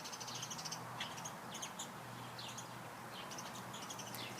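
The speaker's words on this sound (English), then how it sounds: "Do you hear the birds?" Birds chirping and calling outdoors along a walking path among pine trees, with repeated short tweets and a few harsher caw-like calls at moderate distance over a steady low background hum.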